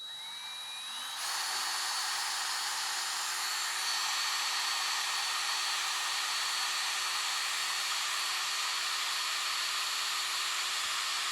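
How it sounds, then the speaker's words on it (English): Power drill boring a hole through a metal tube for a Rubens tube: the motor spins up within the first second, then a steady loud high whine with a constant tone runs unbroken and alone to the end. "we'll drill"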